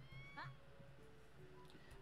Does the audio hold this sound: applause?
no